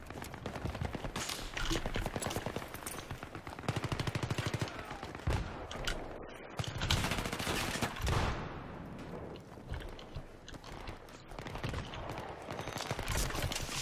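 Pistol gunfire rattles through a Battlefield 3 multiplayer team deathmatch on the Noshahr Canals map, with repeated sharp shots and dense volleys of battle noise continuing throughout the long stretch.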